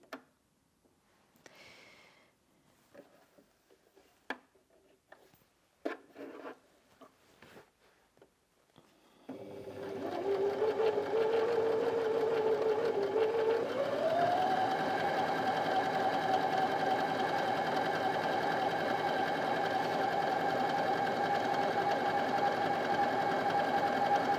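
A Janome Sewist 725s sewing machine runs a stretch stitch with a steady mechanical hum and rapid needle rhythm that shifts slightly in pitch partway through, after several seconds of quiet handling clicks.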